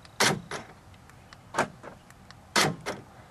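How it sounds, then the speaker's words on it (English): Power door locks on a 1993–1996 Cadillac Fleetwood sedan actuating after a repair, three sharp clunks in quick pairs, close and distinct against a quiet background. "So now I think my doors should lock"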